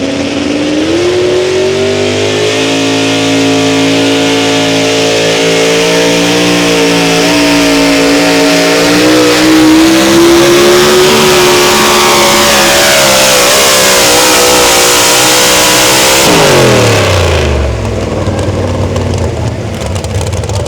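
A pro farm tractor or four-wheel-drive truck at a pulling contest in Blue Earth, Minnesota, runs flat out, its engine roaring loud and steady with rising pitch for about sixteen seconds before cutting off sharply.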